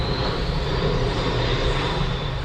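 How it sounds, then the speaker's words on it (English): A big military airplane coming in to land roars overhead, a loud, steady broadband engine drone filling the whole moment with no talk. "We just have a big military airplane coming land."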